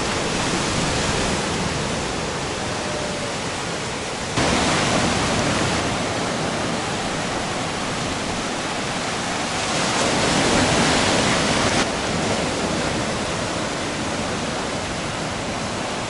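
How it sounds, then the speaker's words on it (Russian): Broad, rushing wash of gentle sea waves on a beach at Alanya, Turkey, fills the air continuously, swelling louder at moments as water surges over the shore, with no voices. "Но волны не сильные."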